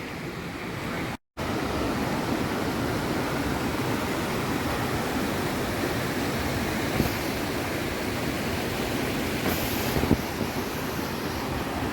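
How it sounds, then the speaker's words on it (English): A mountain river rushes along the Rupin Pass trek at the Uttarakhand–Himachal border, a loud, unbroken roar of churning water close by, with a momentary dropout near the start and faint wind buffeting. "So we have a river here."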